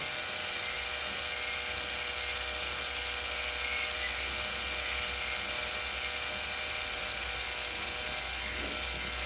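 A hone spins inside a car's brake wheel cylinder bore, giving a faint, steady abrasive whirring and mechanical rattle that runs continuously without a break.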